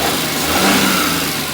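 A 12-year-old second-hand Maruti Alto 800 with an oil-leaking engine revs steadily, its close, loud mid-range drone holding without a break.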